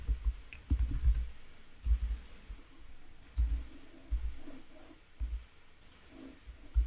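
A handful of keystrokes on a computer keyboard come as scattered, close clicks and soft thumps with short gaps between them, alone and without talk.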